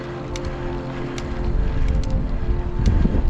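Wind buffets the microphone in low, rumbling gusts on Windy Saddle, a mountain pass above Clear Creek Canyon near Golden, growing stronger toward the end, with a few faint ticking sounds on top.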